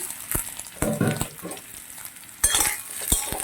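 Potato, pumpkin and brinjal pieces turned in a hot pan, bursts of frying sizzle and scraping strokes with a few clinks of the spoon, close up.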